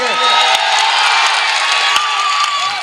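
A large crowd at a political rally roars and cheers without a break, a loud, dense wash of shouting and clapping that holds steady, with no distinct speech.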